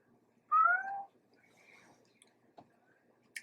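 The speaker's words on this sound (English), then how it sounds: "I have a little friend down there going, meow." A pet cat named Shadow gives a clear two-part meow nearby, rising then falling, followed by quiet room sounds and a couple of faint ticks.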